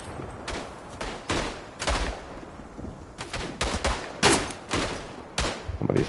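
Machine gun fire from the WW1 video game Tannenberg on the eastern front: repeated loud bursts of automatic gunfire in irregular clusters, fairly close, with no talk over them.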